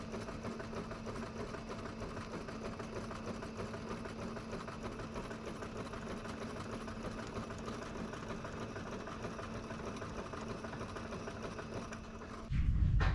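A sewing machine stitches a men's shirt in one steady, continuous hum with a fine mechanical rattle. It runs close and unbroken for about twelve seconds, then stops and a thump follows.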